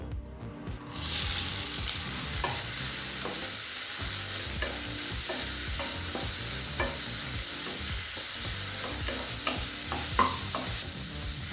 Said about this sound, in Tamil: வெங்காயத்தை நல்ல கலர் மாறுற வரைக்கும் வதக்கிக்கலாம்.